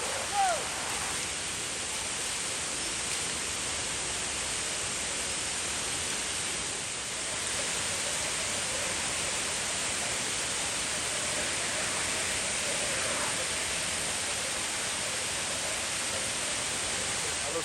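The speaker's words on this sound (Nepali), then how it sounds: "खोप्रा डाँडाको बिचमा चाहिँ एउटा झर्ना छ।" Steady, loud rush of a waterfall on a mountain trail toward Khopra Danda in Nepal, a continuous broadband roar filling the whole clip with no pauses, heard close and alone.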